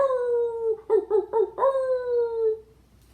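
A voice imitates a wolf howling: a long falling howl broken into a few pulsing wavers in the middle, then a final drawn-out descending note, close and alone.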